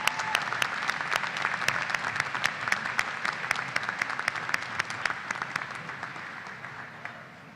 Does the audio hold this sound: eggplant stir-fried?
no